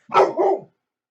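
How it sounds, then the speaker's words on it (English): A dog at home lets out a single loud, close two-part bark, barking at a neighbor, followed by silence. "My dog was barking at one of the neighbors, banging on something."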